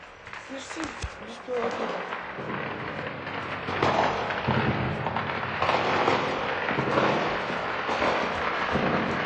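Drone attack explosions in St Petersburg sounding like fireworks, a few sharp distant bangs and crackles at the start, then a loud sustained rumbling roar, with people talking over it.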